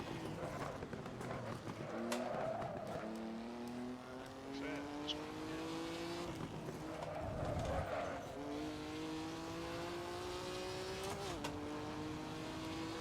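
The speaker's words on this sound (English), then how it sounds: "Man, this car sounds really good." Race car engine in Assetto Corsa with a Goodwood mod, repeatedly revving up through gears with rising tones and shift dips, tyre squeal and skids between runs, while a person talks over it.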